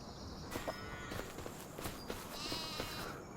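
Sheep in Farming Simulator 25 bleat faintly and quietly in a few brief calls, mixed with soft footsteps and shuffling in a farm pen.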